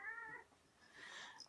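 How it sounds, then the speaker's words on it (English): A house cat meows indoors, one drawn-out mewing call followed by a fainter, higher cry, fairly quiet against low room noise with no talking. "I'm going to interrupt here because there is a kitty"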